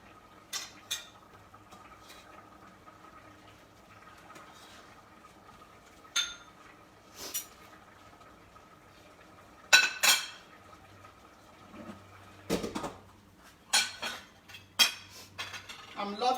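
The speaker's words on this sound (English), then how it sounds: "I'm going to put it back on the stove so that it can cook for another 5 minutes" A pot of light fish pepper soup is set back on the stove amid sparse, quiet clinks and clatters of metal cookware and utensils, scattered knocks over a low steady hum.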